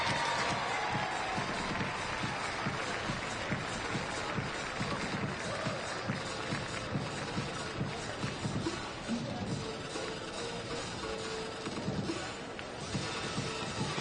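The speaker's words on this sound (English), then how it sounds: "a big round of applause for our 800 freestylers" Sustained audience applause and cheering for 800m freestyle swimmers at a TYR Pro Series swim meet, a steady dense roar of clapping from a large crowd filling the whole stretch with no break.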